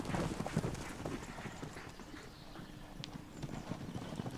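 Konik ponies, a small horse breed of Central and Eastern Europe, clip-clop on the ground in a Polish nature reserve with busy, overlapping hoofbeats close by.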